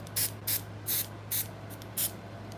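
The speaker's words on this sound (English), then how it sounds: "This is what I'm using, airbrush." An airbrush filling in a beard on a hair unit, giving five short, evenly spaced hissing bursts, close and crisp over a low steady hum.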